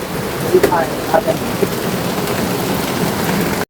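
Heavy rain pours down on flooded roads in Ahmedabad in a steady, dense hiss, with a few faint voices and brief tonal sounds early on.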